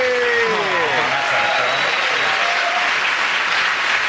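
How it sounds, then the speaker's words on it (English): A studio audience at a comedy show breaks into loud, sustained applause lasting the whole stretch, a dense wash of clapping with a few whoops and faint tonal sounds rising through it. "getting that round of applause for Russell"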